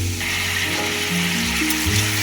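Chicken fries lightly in a pan, a loud, close, steady sizzle with a low background hum, without talk.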